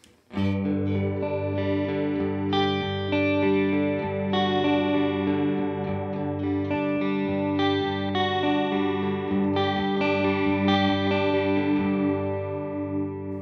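Electric guitar played through a Line 6 Helix chorus set to a slow rate, giving a gentle, less warbly shimmer over steady strummed chords that ring out continuously, loud and with no talking.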